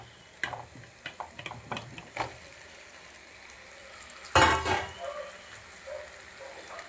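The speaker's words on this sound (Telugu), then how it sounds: "పైకి వచ్చాక ఇప్పుడు మనం ముందుగా కట్ చేసి పెట్టుకున్న బ్లడ్ని వేసుకోవాలి" Chopped goat blood going into a pan of frying masala where the oil has separated, heard as soft clicks and stirring taps followed by a sudden louder sizzling burst that settles into a quieter fry.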